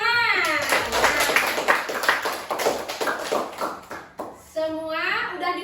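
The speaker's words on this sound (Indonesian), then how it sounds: "Iya, terima kasih, tepuk tangan." Schoolchildren in an Indonesian classroom clap together during a coding lesson, a run of quick, rhythmic, fairly close hand claps, with children's voices heard just before and after.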